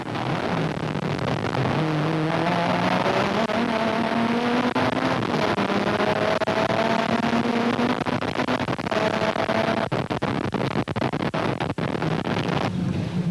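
Toyota rally car racing in the 2007 Hluhluwe 400 rally, its engine note climbing steadily through several gear changes, heard loud and continuous under heavy wind buffeting on the microphone, with no talk.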